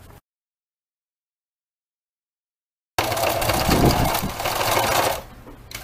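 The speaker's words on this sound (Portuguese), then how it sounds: "E agora eu vou passar a costura." A sewing machine stitches a seam along folded, creased fabric. After a silent gap it runs in one loud, steady, close burst of rapid whirring for about two seconds, then slows and stops.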